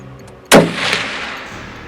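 A single loud rifle shot fired at a whitetail buck during a deer hunt, a sharp close crack followed by a long rolling echo that fades across open ground.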